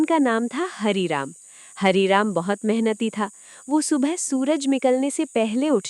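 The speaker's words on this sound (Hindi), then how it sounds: "दूर कहीं से झींगुरों की आवाज आ रही थी।" Crickets chirp at night in a quiet village, a continuous high, even trill that holds steady beneath a close narrator's voice.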